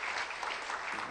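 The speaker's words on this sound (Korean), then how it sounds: "박수 한번 올려드리겠습니다." A church congregation applauds at a Friday service, with dense, continuous clapping heard alone and at moderate volume.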